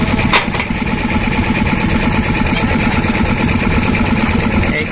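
An old coal-fired steam engine runs at an outdoor display of vintage machinery, giving a loud, steady, rapid mechanical chugging that continues unbroken for the whole stretch.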